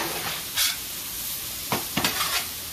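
Sausage sizzling and singeing in a hot pan for a spicy chicken and sausage pasta, with a steady hiss and several louder bursts of spatter as it is stirred, heard close up.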